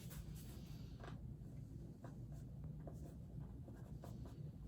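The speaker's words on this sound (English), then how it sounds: "Go ahead and write that down." A pen writes notes on paper, producing soft, continuous scratching strokes close by, faint and steady over a low background rumble, with no talk.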